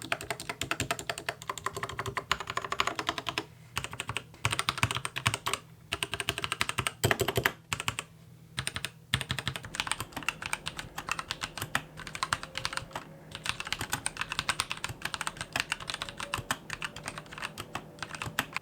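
Continuous typing on a Dierya DK63, a budget 60% mechanical keyboard, with dense clacky keystrokes in a fast rhythm, brief pauses between bursts and sharper spacebar hits, close and clear with no talking.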